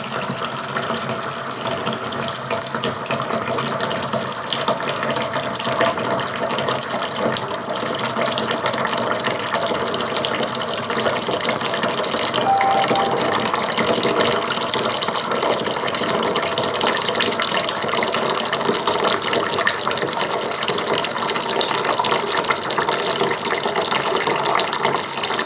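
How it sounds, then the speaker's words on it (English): Bourbon mash liquid drains steadily into a bucket, a continuous close splashing trickle and gush that holds a constant level throughout with no talk. "we'll just keep doing this until we collect 6 gallons of a mash in our bucket here."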